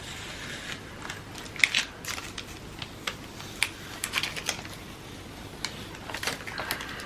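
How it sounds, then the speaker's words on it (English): Masking tape peels slowly off watercolour paper in a string of small crackling ticks and sharp sticky snaps, close and quiet with no talk. "Let's carefully take off this tape."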